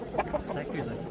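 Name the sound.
roosters and chickens clucking at a bird market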